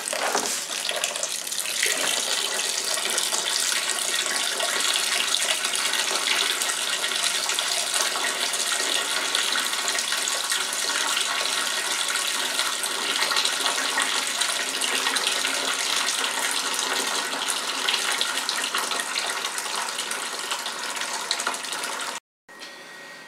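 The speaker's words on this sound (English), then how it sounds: "So now, the spring water gets added to it again." Spring water pours in a steady, rushing stream into a six-gallon batch of blueberry mead, a continuous splashing fill that runs loud and unbroken for over twenty seconds before stopping abruptly.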